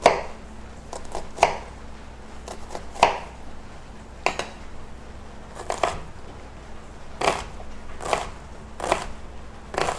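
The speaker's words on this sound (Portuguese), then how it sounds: "vou picar aqui a cebola." Onion being chopped with a knife on a board, sharp irregular thuds arriving singly and in short bursts, close and clear with no talk.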